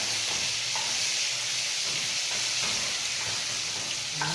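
Ginger garlic paste sizzling and frying in a hot pan for moong dal khichdi, a steady close hiss with faint stirring clicks, no voices.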